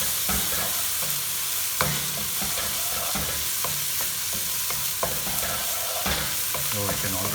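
Hot sauce for an Indian-style shrimp creole sizzles loudly and steadily in a hot pan, with sharp scrapes and clicks of stirring breaking through the constant frying hiss.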